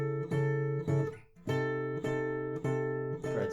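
An acoustic guitar plays an arpeggiated intro, a series of ringing picked chords in a steady rhythm, close and clear with no talking.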